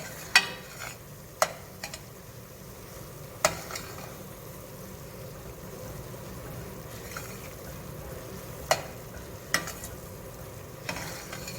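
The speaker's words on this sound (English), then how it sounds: "Our fresh parsley, and we're going to stir it." A spoon stirs fresh parsley and cauliflower in a pan over a low, steady sizzle, with sparse scraping clicks against the pan at irregular intervals.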